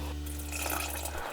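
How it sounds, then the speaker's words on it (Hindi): Water is poured over grated potatoes in a bowl to rinse them, giving a continuous close splashing and trickling over a steady low hum, with no talking. "अब हम इन्हें एक बाउल में निकाल लेंगे और इसे अच्छे से 2-3 बार पानी डाल के वॉश कर लेंगे।"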